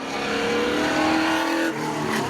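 Drag race cars at Seekonk Speedway during a Memorial Day spectator drags event, a loud, sustained engine roar close by as a car accelerates hard, then the pitch drops near the end.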